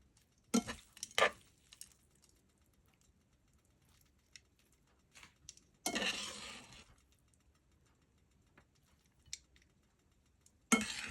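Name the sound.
stir-frying bihon noodles in a pan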